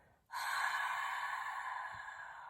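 A single forceful open-mouth exhale during yogic breathwork, close and breathy, starting abruptly and sustained as a long, airy rush that slowly fades, with no talking.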